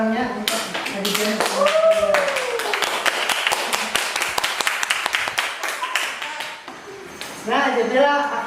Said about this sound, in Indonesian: beri tepuk tangannya untuk Aditya